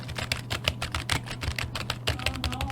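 Typing on a Corsair K55 RGB keyboard gives a steady, fast run of close, crisp key clacks for about three seconds with no talking.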